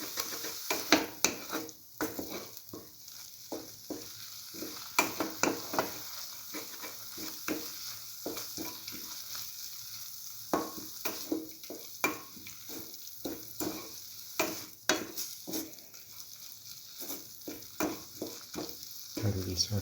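Salted egg being scrambled and mixed in a pan with the rest of a mixture, giving a soft continuous sizzle broken by frequent sharp scraping and stirring strokes against the pan, close and fairly loud.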